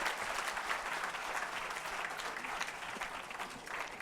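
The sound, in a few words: applause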